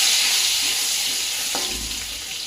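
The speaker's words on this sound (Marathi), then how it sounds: "थोडा हिंग टाकला आहे एक चमचा मिक्स करून घ्यायचं" Garlic cloves and asafoetida fry in hot oil while being stirred for a gargate bhaji with pavta beans: a steady, loud, close sizzle that runs throughout, with a brief spoon scrape midway.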